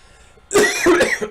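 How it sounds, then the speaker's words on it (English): A single close, harsh cough bursts out loudly and rasps on for most of a second before stopping. "I haven't been coughing like that for a little while now"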